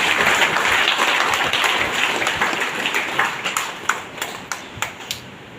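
An audience claps in a full round of applause that thins out toward the end, leaving a few loud, scattered individual claps.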